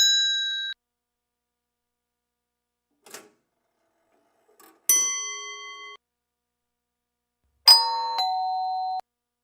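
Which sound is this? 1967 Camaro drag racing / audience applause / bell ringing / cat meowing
bell ringing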